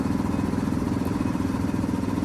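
A 1973 Mack FR700 truck's diesel engine being cranked over, a loud, steady rhythmic chugging churn that holds even and close throughout the short stretch, with no voices.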